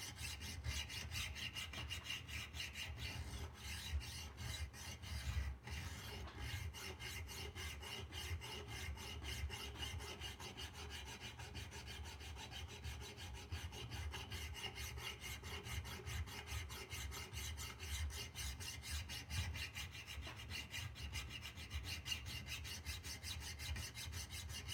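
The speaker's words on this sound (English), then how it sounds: "Now you move to a kind of a finer grit file, just to kind of clean it up." A finer grit hand file rasps steadily across a knife being shaped by hand, a continuous close scraping stroke after stroke with no pauses, loud and alone.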